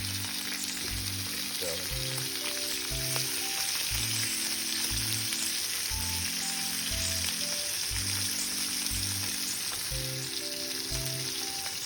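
Pork belly frying in hot oil in a pan, a steady close crackling sizzle throughout with faint stirring, no voices, while a soft repeating musical pattern plays underneath.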